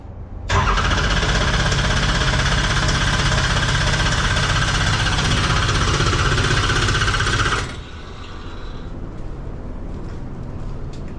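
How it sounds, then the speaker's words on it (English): A race car engine cranks briefly and then fires, roaring loudly at a steady high level for several seconds before dropping to a lower idle, close to the microphone with no talking. "I'm gonna crank it."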